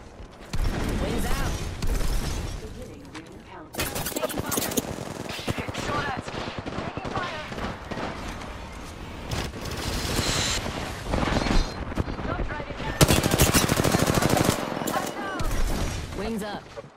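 Rapid automatic gunfire bursts in the video game Apex Legends, loud sustained volleys broken by brief pauses, with mechanical weapon sounds and a player's voice talking over the action.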